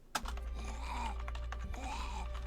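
Computer keyboard typing runs under a podcast-style recording, light irregular clicks sitting beneath steady background noise and faint voice-like tones.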